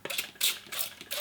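Spray bottle misting oil or acrylic paints on a palette during outdoor plein air sky painting, giving a few quick, quiet hissing bursts with clicks close by.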